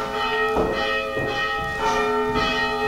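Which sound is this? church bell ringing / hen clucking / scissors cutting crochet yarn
church bell ringing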